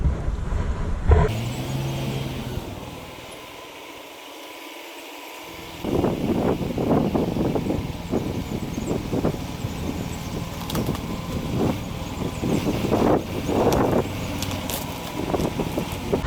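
A truck rumbles and drives into a wet yard at a storm damage job, with a steady engine drone and irregular clunks and splashy knocks as it rolls in close by.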